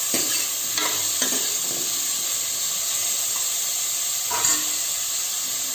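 Sliced onions with a little salt fry in a Prestige pan, giving a constant close hissing sizzle broken by a few scraping stirs, with no talk.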